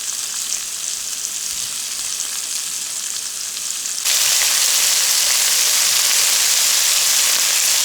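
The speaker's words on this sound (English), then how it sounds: "now we're just going to add our shrimp and cook this for about 2 to 3 minutes on each side" Shrimp sizzle in oil and butter in a skillet, a loud, steady crackling hiss that grows fuller partway through and runs on without talk.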